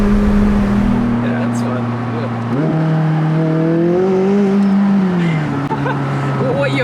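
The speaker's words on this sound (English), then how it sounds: "when you're putting on full throttle, you can definitely feel the turbo lag is there to an extent" McLaren 600LT supercar under full throttle, its engine drone climbing and shifting pitch steadily from inside the cabin, loud and continuous, with a person talking over it.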